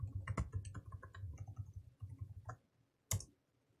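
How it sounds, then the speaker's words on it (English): Quick clicks of someone typing a password on a computer keyboard during an Ubuntu 20.04 server setup, the keys tapped in a fast uneven run, then a pause and one last sharp keystroke, close and fairly quiet. "And I'll type it again."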